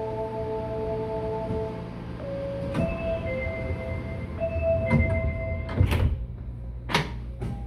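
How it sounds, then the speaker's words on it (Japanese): On an Osaka Metro Chuo Line subway train, chime tones sound before the doors close with several clunks and thuds, over the low hum of the carriage. "扉が閉まります。 ご注意ください。"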